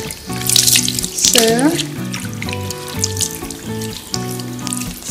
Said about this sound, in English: we open the water, and then we try to wash her hair